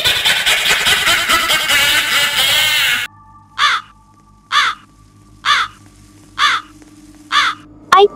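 In a Roblox game, a crow gives six evenly spaced harsh caws, loud and close, following a few seconds of dense, busy noise.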